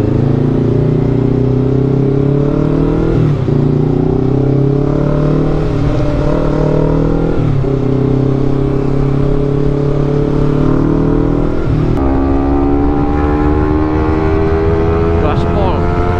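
A Honda CBR250RR motorcycle is revved hard at full throttle, loud and close, the engine note climbing repeatedly through gear changes over a continuous high-pitched howl.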